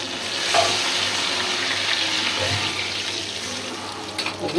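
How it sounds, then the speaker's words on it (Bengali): Masala-coated hilsa fish frying in plenty of oil, a steady close sizzle and crackle running throughout with a few brief pops. "তেল দিয়ে মাছ মাখা মশলাটা দিয়ে রেখেছি"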